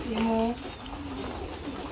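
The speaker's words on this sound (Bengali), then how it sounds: "বন্ধুর ভরপুর কবুতর রয়েছে" Pigeons at a seller's stall give a brief low coo, with a few soft bird sounds after it and faint chatter in the background.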